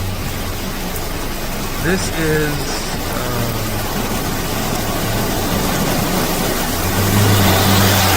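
A car drives slowly along a nearly impassable rain-soaked road in Jamaica, its engine a low drone under a constant loud hiss of heavy rain, with a brief voice early on.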